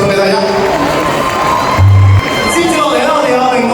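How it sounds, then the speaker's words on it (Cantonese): An audience at a Hong Kong talent-show meet-and-greet gives mixed cheering and crowd noise, with a presenter's voice over the top and a short low thump partway through. "好，俾啲掌聲。"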